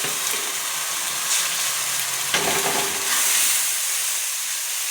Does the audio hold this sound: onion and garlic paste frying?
yes